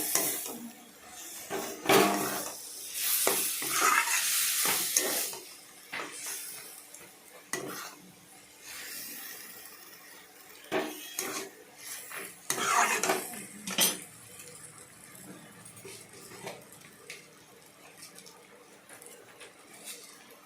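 Red amaranth stems and hilsa fish head stirred in a pan: repeated metal scrapes and clanks of a spatula against the pan over a soft sizzle, irregular and fairly close, continuing for about twenty seconds.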